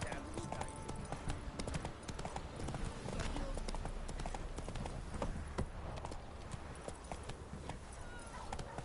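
A horse clip-clops along at a steady trot in The Witcher, close and rhythmic hoofbeats with rustling ambience as people talk over it.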